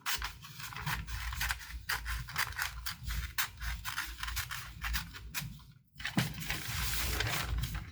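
Scissors snip through a piece of newspaper comic strip up close, a quick run of crisp rhythmic cuts with a short pause before the cutting resumes.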